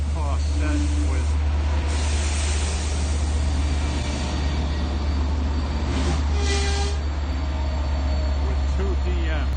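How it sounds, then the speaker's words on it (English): A five-car Long Island Rail Road extra train with two DM30AC locomotives passes at Westhampton, making a loud, continuous rumble and roar with low engine drone that stays steady through the whole stretch. "this extra train turned out to be a 5-car set with"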